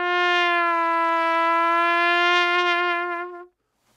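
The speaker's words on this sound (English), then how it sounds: "if you use your embouchure to bend the note" One long, steady trumpet tone with a rich, brassy edge is held for several seconds, bent with the embouchure, then slips away and stops, played close and alone.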